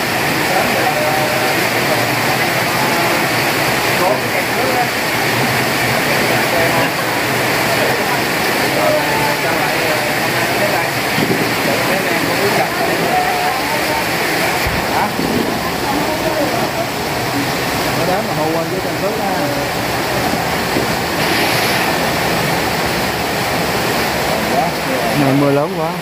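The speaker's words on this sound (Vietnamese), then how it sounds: "Mà mưa lớn quá." Heavy rain pours down hard, a loud, dense roar like a waterfall that continues unbroken throughout, with people talking now and then under the downpour.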